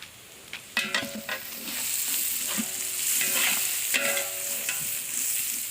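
Country chicken for biryani sizzles and fries in a pan, a steady soft hiss broken by scraping stirs of a spoon and clinks against the metal.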